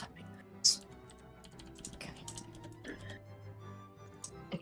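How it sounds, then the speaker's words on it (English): Quick clicking keystrokes on a computer keyboard during a tabletop role-playing game session, light and scattered over about five seconds beneath low background music and some voice. "Just typing this."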